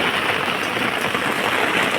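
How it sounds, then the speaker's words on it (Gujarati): A heavy village downpour keeps up a steady, close, roaring hiss of falling rain, even throughout, with no one talking. "વરસાદ પડે ધૂમ મચાઈ રહ્યો"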